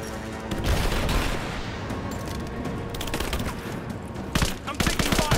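Video game gunfire: dense, loud bursts of automatic fire and single shots crackle continuously, with sharper close shots near the end and voices faintly under the shooting.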